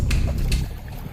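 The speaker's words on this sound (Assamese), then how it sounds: "এতিয়া আমাৰ নাও আৰম্ভ হ'ল।" A country boat sets off on the Kulsi river near Ukiam in Assam. Low rumbling and water sloshing fill the brief moment, with a couple of soft splashes and no talking.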